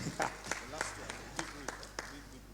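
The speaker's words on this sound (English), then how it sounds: "let's give her an applause" Sparse, scattered handclaps from a small audience at an educational talk during a community social centre launch in Kisumu, a few sharp claps spaced irregularly, faint and somewhat distant, with a murmur of voices underneath.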